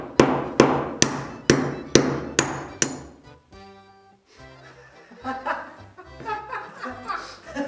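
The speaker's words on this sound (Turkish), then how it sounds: "hele bir tornavida çekiç kullanıp vurarak delik açmak imkansıza yakın bir şey" A screwdriver driven with a hammer to punch a hole through ceramic, giving about seven sharp, loud metallic strikes in a steady rhythm, followed by quieter clinking and scraping sounds.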